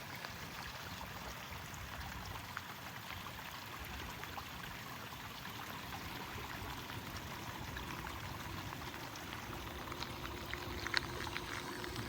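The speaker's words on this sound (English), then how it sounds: "we're already getting a pretty good channel of water coming along here" Floodwater flows along a desert channel above sandstone layers, a steady, broad rushing and gurgling wash that carries on evenly with a few faint splashes.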